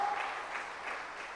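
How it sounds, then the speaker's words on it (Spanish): A church congregation claps in praise to the Lord, a faint, steady patter of applause heard from a distance with no voices over it. "Puedes darle un aplauso al Señor"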